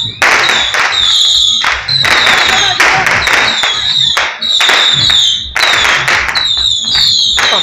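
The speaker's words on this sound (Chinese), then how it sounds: "阿伯放炮啊！ 响啊！" Firecrackers set off during a temple procession, a dense run of loud, rapid cracking bursts repeating in several long volleys, with shrill whistling tones above and excited voices shouting nearby.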